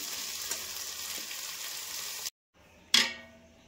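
Chana dal simmers and sizzles in a pan with a steady frying hiss, broken by a brief silent gap and then a sharp burst of sizzle as cooking resumes.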